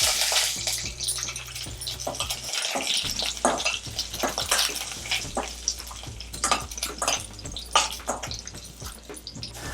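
Six dried red chillies and a whole head of garlic frying in a little oil for rasam, a dense crackling sizzle with sharp pops and spits throughout, close and steady.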